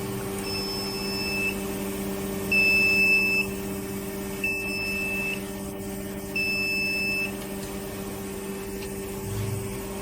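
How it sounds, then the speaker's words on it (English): An electronic buzzer on a valve strainer pressure test bench sounds four times in evenly spaced bursts of about a second at the end of pressure holding, a steady tone over a constant machine hum. "Buzzer alarm at the end of holding pressure."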